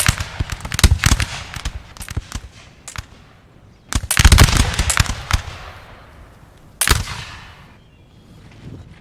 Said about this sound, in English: Oh no, they did. They're shooting.